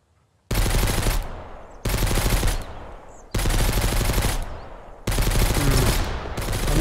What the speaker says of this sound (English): I hear a lot of gunfire, and that's kind of scary.